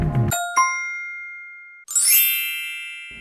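Two bright metallic dings ring out and fade, followed by a higher shimmering chime that lingers and slowly decays.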